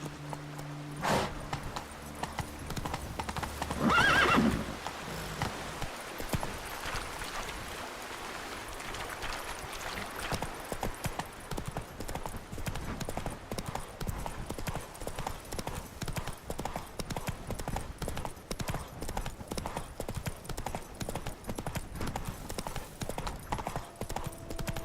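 Horse hooves clip-clop in a steady, continuous gallop rhythm in the video game The Witcher 3, with a brief louder burst early on. No clear neigh stands out.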